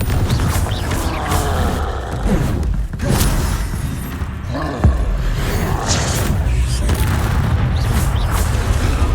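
The Confringo explosive spell goes off in Hogwarts Legacy, giving dull booms and thuds amid constant combat noise, with a sharper blast near the middle.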